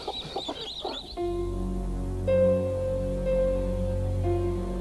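Chickens cluck in a short close burst, then a low steady drone with tonal hum takes over the rest, no talk heard.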